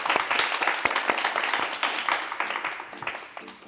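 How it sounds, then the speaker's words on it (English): An audience applauds to thank guests at a business talk, a steady wash of many clapping hands that is fairly loud at first and tapers off near the end, with no talk over it. "can we give a round of applause to thank my phenomenal guests for being here?"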